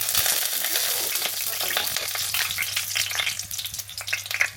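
Plantain slices fry in a pan with a loud, continuous sizzle, punctuated by light scrapes and taps as they are turned, for a Jamaican plantain chicken burger.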